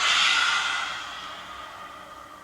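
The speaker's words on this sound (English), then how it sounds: "And then exhale." A single long breath is exhaled during an Agni Sara Kriya yoga exercise, loud and close at first, then fading steadily into a soft airy trail, with no talking.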